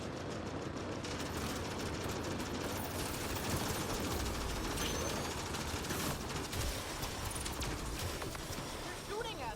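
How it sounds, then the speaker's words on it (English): Enemy gunfire in the video game Mass Effect: Andromeda, with dense bursts of automatic shots and scattered impacts in a busy battle mix, continuous throughout. "They're shooting at us!"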